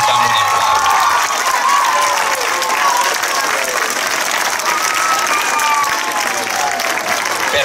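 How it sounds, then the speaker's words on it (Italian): At the final evening of an Italian summer camp, a large audience applauds in a dense, sustained wash of clapping with some cheering and children's shouts mixed in, steady and full throughout. "Vi facciamo un applauso"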